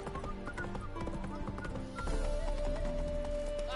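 Roach, Geralt's horse in The Witcher video game, runs with a steady clip-clop of hooves over a bed of game music, the hoofbeats growing a little louder midway.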